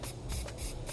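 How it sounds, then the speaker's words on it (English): Cleaner and deglosser prep sprayed onto furniture during a dining room makeover, a close, steady hissing spray of about one second with a few pulsing squeezes. "Just spray it on there and wipe it clean."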